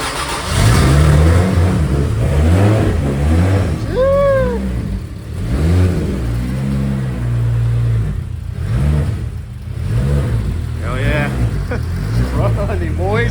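A Toyota 2JZ engine fires up on its first start and runs rough and loud, with repeated revs rising and falling while people talk excitedly over it.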